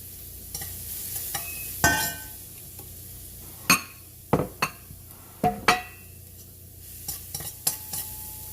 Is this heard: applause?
no